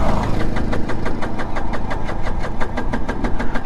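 A Suzuki Access 125 BS6 scooter engine runs with a fast, even pulsing putter, heard up close and alone with no talk over it.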